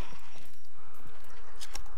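Footsteps thud irregularly in the building next door in the game Scum, a handful of muffled impacts with a brief sharper click near the end.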